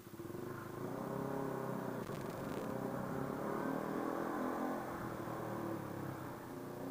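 A Honda CBR125 motorcycle engine revs hard toward the red line inside a dark, enclosed space, a loud sustained roar that holds steady for several seconds and echoes off close walls.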